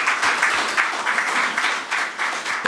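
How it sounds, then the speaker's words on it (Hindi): Loud, dense applause from a Hindi poetry gathering audience welcoming the poet Jyoti to the stage, steady clapping throughout with small surges. "ज़ोरदार तालियां ज्योति के लिए"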